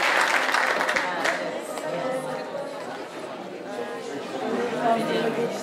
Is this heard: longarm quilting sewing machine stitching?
no